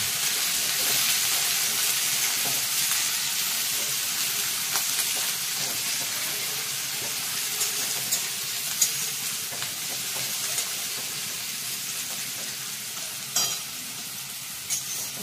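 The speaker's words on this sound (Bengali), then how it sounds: "পেঁয়াজটা আগে দিয়ে ভাজবে" Onions frying in a pan, a loud, continuous sizzle and hiss up close, with scattered spatters and occasional utensil knocks toward the end.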